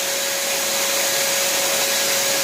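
A Paint Zoom paint sprayer runs continuously, its motor giving a loud, steady whine with a rushing blast of air from the nozzle, close and unbroken with no talk.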